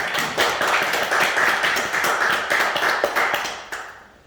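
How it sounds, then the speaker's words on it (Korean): A church congregation breaks into dense, loud applause offered to God, a continuous wash of many hands clapping that tails off at the end. "박수로 하나님께 한번 드리겠습니다"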